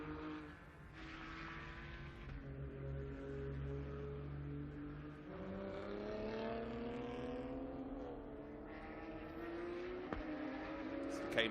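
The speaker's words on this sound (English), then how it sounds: "Cayman GT4 Club Sport cars battling for position, which is good to see." Porsche Cayman GT4 Clubsport race cars battle for position during a Porsche Sprint Challenge Benelux race, engines droning and rising in pitch through gear changes at steady moderate volume, with a commentator talking over them throughout.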